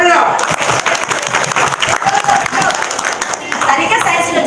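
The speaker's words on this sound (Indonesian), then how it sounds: "Tepuk tangan dulu." Loud, dense applause fills a hall at an Indonesian testimonial gathering, mixed with crowd voices and cheering, steady for several seconds.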